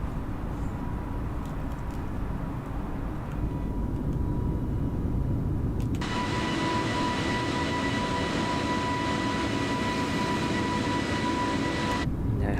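Loud steady roar of an IndiGo Airbus A320neo's engines during takeoff from Cochin on a damp, thundery day, heard from inside the cabin, swelling and brightening midway into a constant whine and rumble.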